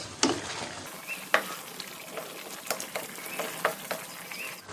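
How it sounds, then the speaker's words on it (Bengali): Fried parshe fish pieces drop into boiling mustard gravy, giving a soft bubbling simmer punctuated by several light scrapes and stirring knocks, fairly quiet and close, with no talking. "ঝোল ফুটে গেছে, আমি এতে দিয়ে দিচ্ছি ভেজে রাখা মাছ"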